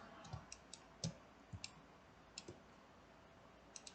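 A computer mouse clicks faintly about a dozen times at an irregular pace, sharp short ticks with pauses between them, during work in 3D apparel CAD software.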